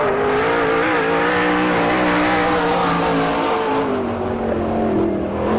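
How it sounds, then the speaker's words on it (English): A sprint car turns a quick lap at Mercer, Pennsylvania speedway during a 2000 All Star Circuit of Champions Western PA Speedweek event, its engine roaring loud and steady throughout with pitch rising and falling through the corners, no voices. "Brian Ellenberger turning a quick lap there."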